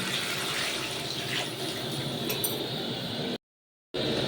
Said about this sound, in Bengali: কুকারে একটু গরম জল করে নিয়েছি, এবার দিয়ে দেবো।